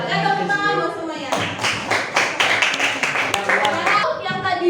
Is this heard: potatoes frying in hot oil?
no